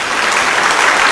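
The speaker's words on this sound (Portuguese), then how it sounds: "Dê uma salva de palmas a Jesus." Church congregation applauding, a loud, dense roar of many hands clapping close by, continuous and even for a brief stretch with no voices over it.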